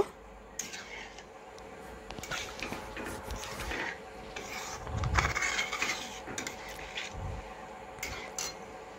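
A utensil scrapes and rubs against a pan while sugar is stirred until it melts for a homemade sandesh sweet. The scraping is irregular and fairly quiet, with a few louder strokes near the middle.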